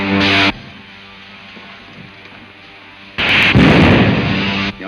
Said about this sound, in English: Fire a blast into the tail surface as I level out